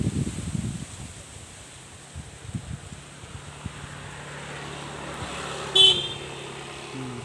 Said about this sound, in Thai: รถลับผ่านไปผ่านมาก็จะบีบแตรงั้นแหละครับ